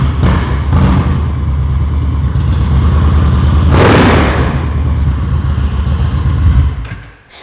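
A custom Indian bagger motorcycle revved hard and close, the engine rising to a loud swelling roar midway and then dropping back to a rumbling idle before fading out.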